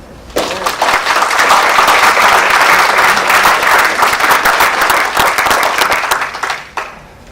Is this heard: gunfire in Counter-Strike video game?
no